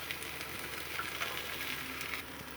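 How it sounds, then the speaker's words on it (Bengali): Potato and pointed gourd fry in a pan as soya chunks go in, giving a faint, steady sizzle with light stirring and no talking. "এবার আমি এটাতে সয়াবিন দিয়ে দিব।"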